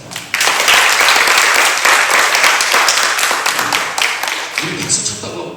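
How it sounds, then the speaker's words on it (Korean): A church congregation at a summer mountain prayer meeting bursts into loud, sustained applause that stays full for about five seconds before thinning out. "그분 박수 한번 하십시오."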